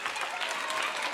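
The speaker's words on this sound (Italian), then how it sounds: "Un grande applauso!" Children and adults in a school audience applaud, a brief burst of fairly faint, dense clapping that holds steady throughout.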